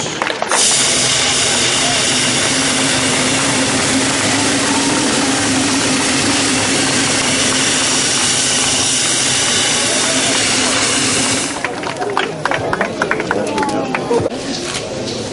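Audience applauding at the opening of a city history museum in Uşak, Turkey: a sustained, dense roar of many hands clapping that thins into scattered claps near the end, with voices mixed in.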